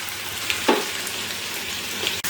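Steady, close sizzling of a vegetable fry-up in a pan, with a few faint clinks and stirring sounds over the continuous hiss.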